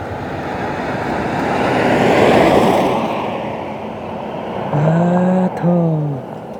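Wind blows in a broad whooshing swell while a car passes by, the rush peaking midway and fading, followed by a brief tonal voice-like wail near the end.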